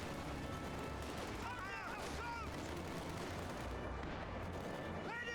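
Sturmgewehr assault rifles fire in a World War II-style video game battle, rapid cracking bursts mixed with distant booms and battlefield rumble, with a commentator talking over the fighting.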